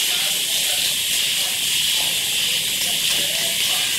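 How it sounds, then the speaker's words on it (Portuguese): Pressure cooker hissing steadily while beans cook in a home kitchen, a continuous airy steam hiss held at a constant level in the background throughout. "O feijão pegou pressão, como vocês podem escutar no fundo aí"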